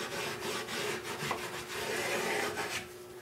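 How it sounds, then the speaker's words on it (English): Fine 4-aught steel wool rubs the leatherette surface of a Gerstner box in steady back-and-forth strokes, a close, rasping scrub with a regular rhythm. "Some 4-aught steel wool will just rub the surface enough to."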